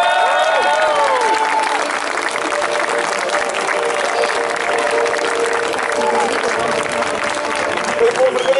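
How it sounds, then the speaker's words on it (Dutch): Crowd applauding the winner at the Brabantse Pijl cycling race award ceremony, a loud sustained outdoor clapping and cheering that runs throughout, with a tonal music or announcement layer faintly underneath. "uw applaus bestemd voor de winnaar van vandaag"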